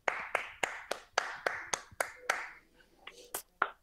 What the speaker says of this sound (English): A big applause for the third and for the super,